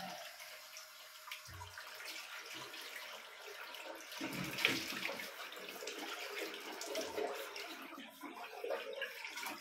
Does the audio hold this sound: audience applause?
no